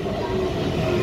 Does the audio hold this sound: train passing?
yes